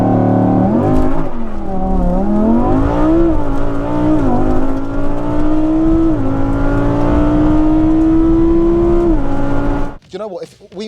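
Remapped family car launching hard with wheelspin, its engine note climbing and wavering loudly for about ten seconds before cutting off abruptly, heard close and under excited shouting.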